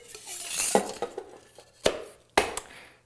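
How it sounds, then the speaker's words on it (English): A metal spring coil from a Hawthorne strainer is dropped into a metal cocktail shaking tin, giving a few sharp metallic clinks and rattles, then two louder distinct clanks close by with no talking. "take the strainer, the spring strainer off of a standard Hawthorne strainer, and just put that into the shaking tin"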